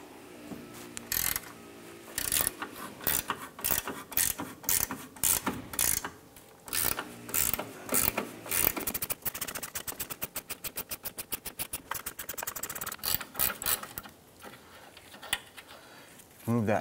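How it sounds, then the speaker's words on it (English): A 15 mm gear wrench ratchets on a nut at the lower engine torque strut mount of a 2005-2007 Ford Five Hundred, giving rapid clicking bursts, including a long fast run of clicks near the end, close and fairly loud. "Use your 15 millimeter gear wrench on the nut side. Let's loosen and remove that."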